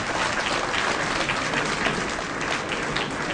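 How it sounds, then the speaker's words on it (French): An audience at a ministerial speech in Côte d'Ivoire marking the start of Air Côte d'Ivoire domestic flights applauds, a dense, steady clapping that fills the room. "Applaudissez, parce que c'est important."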